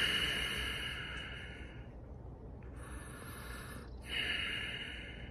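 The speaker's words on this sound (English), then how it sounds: "I'm going to take just a moment and I'm going to do my breathing exercise here." A person does a deep breathing exercise, slow drawn-out breaths in and out heard up close with a short pause between them, no speech.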